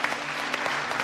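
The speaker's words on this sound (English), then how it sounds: "Give yourselves a round of applause" Brief applause breaks out for MasterChef US contestants in a TV cooking competition kitchen, a short burst of clapping from a small group at moderate volume.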